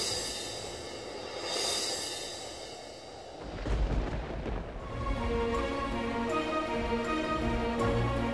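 Deep thunder rumbles in a storm, rising from a windy hiss into a heavy rolling roar that stays loud to the end.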